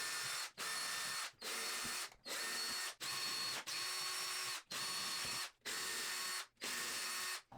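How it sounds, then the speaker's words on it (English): A power drill bores pilot holes into a bathroom wall for a curved shower rod, running in about nine steady bursts with short pauses between them, a close, whirring buzz heard without any talk. "I'm going to drill my pilot holes first"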